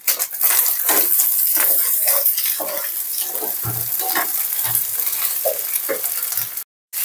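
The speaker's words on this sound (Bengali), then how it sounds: "দুইটা ডিম দিয়ে আমি এখন নেড়ে নেব।" Eggs seasoned with Maggi masala stirred in a hot frying pan, with loud continuous sizzling and frequent scraping clicks of a utensil against the pan, one brief cut near the end.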